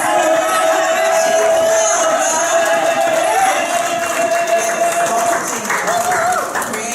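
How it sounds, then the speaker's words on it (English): Audience applause and cheering at a community gathering, a steady dense wash of crowd noise held at even loudness throughout, with a sustained tone running underneath. "I want you to give her a rousing round of applause."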